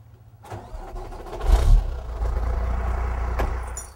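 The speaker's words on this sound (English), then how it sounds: "You're ready to roll the truck off the chains." A truck starts and rolls forward off its snow chains, engine catching with a low rumble then idling steadily, with a couple of sharp clanks, close and loud.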